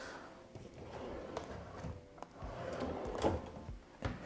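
Desk drawers in a Tokyo hotel room slide and knock as they are opened and shut, making several woody thumps and scrapes at close range against quiet room tone.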